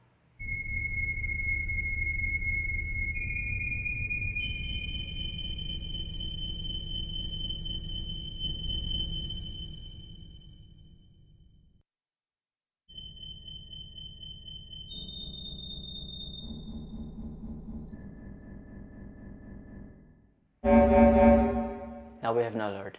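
Synthesized alert tones stepping upward in pitch, drenched in long reverb over a low droning bed, with a short pause and a harsh burst at the end.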